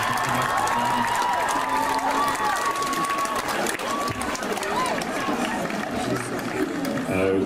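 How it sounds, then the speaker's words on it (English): School audience at an evening Eisteddfod event applauding, dense continuous clapping from a crowd with some cheering and chatter mixed in, filling the whole stretch. "So can we give a big round of applause?"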